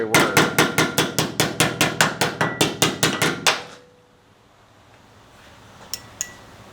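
Close-up metal tapping: a hammer knocks dents out of sheet metal in a quick, even run of about seventeen sharp taps. The taps stop abruptly, leaving near silence and two faint clicks.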